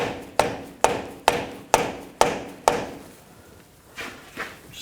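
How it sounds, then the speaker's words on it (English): Six sharp, evenly spaced knocks as a rubber mallet taps the rear axle of a 2000-2006 BMW X5 back into its wheel hub bearing, heard up close, then two softer taps. "Just tap the axle back in place a little bit."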